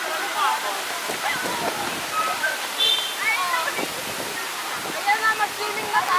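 River water rushing steadily and loudly on a field trip outing, a continuous broadband roar with people talking and calling out over it.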